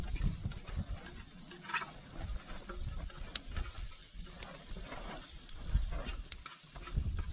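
Italian sausage browning in a pan at a campsite: a soft, steady sizzle with intermittent stirring scrapes and small pops, fairly close, with no talking.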